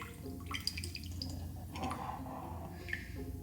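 Water drains out of a broken coconut in small, close drips and splashes, a few scattered wet ticks over a quiet room background.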